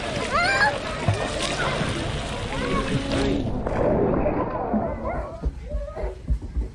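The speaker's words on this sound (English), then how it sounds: "His method of splashing is hilarious" Repeated splashing and sloshing of a child in hotel pool water close by, mixed with excited voices and background chatter, fading toward the end.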